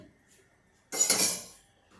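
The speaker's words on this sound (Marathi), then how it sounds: "कढई ठेवली आहे मी गॅसवर" A metal kadhai set down on a gas stove gives one sharp, close clank that rings briefly and fades, with quiet before it.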